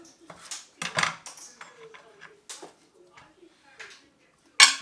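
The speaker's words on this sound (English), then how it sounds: "So with the spring onions, you just basically cut the ends off." Spring onions trimmed with a knife on a board, giving a few close dull chops and taps with quiet gaps and a sharp clack at the end.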